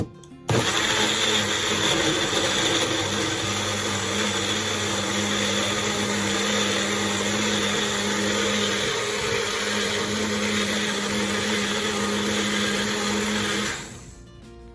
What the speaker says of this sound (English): So you're going to blend until it is smooth.